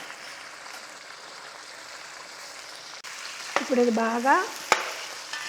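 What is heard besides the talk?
chicken frying and being stirred in a large pan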